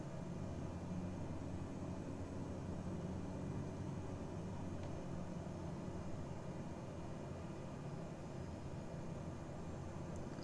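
An airliner on approach in Microsoft Flight Simulator gives a steady, faint broadband engine and wind rush with no breaks and no talking.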